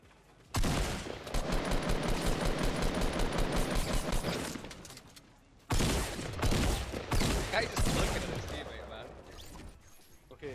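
Sustained automatic gunfire in Fortnite Battle Royale, two long, loud, close bursts of rapid shots separated by a short pause, with a player talking over them.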